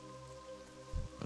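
Steady rain falls in World of Warcraft Classic, a soft, even hiss with a couple of low thumps near the end, quiet overall.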